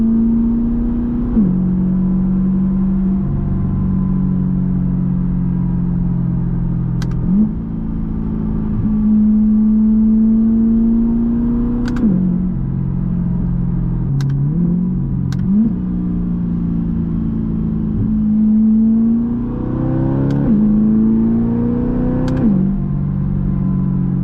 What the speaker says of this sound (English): we're gonna let the car warm up for just a second